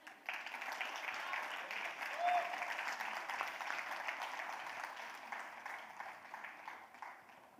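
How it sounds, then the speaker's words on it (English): Audience applause at a summit talk on childhood, sustained clapping from a large crowd that swells early then slowly thins, heard at moderate distance without speech. "give a huge round of applause to him"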